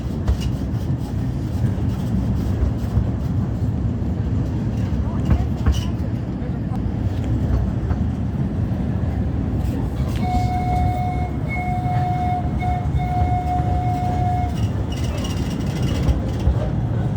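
A small train at Jacksonville Zoo rumbles along steadily, with a long high whistle-like tone sounding in the latter half; light outdoor background noise throughout.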